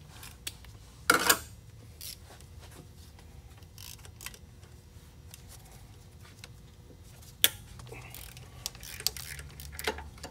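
Ratchet loosening oil cooler bolts on a Chevy Cruze, heard as a few sharp, isolated clicks and short ticking bursts spread over a quiet workshop background.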